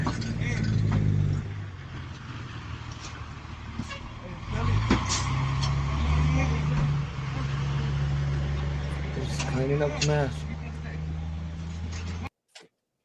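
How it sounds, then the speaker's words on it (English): A fire truck drives past on a street, its engine rumbling and rising then fading, with road traffic around and someone talking over it throughout. "So the fire truck just drove by"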